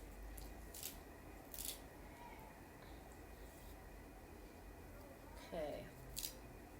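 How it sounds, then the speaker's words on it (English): Celery cut up with a knife straight into a bowl: a few faint, crisp snaps spaced a second or more apart over a quiet room background. "So I'm just cutting that up right into the bowl."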